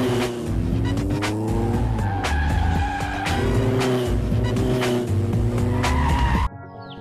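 A vehicle driven at high speed with tires squealing and skidding over a loud roaring engine, sustained and close before cutting off abruptly.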